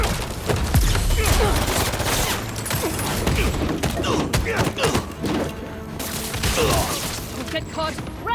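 Guards firing at Spider-Man in Marvel's Spider-Man 2: dense, rapid bursts of gunfire with thuds and mechanical clatter, loud and continuous, mixed with shouted voices.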